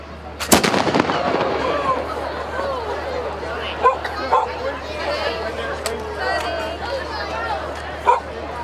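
Muskets fire a rolling feu de joie at an outdoor pirate weekend event in Plymouth, sharp separate shots cracking one after another with crowd murmur and voices around them.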